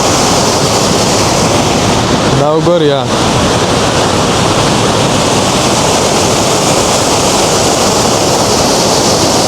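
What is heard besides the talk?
loud rushing water at a scenic spot in Afghanistan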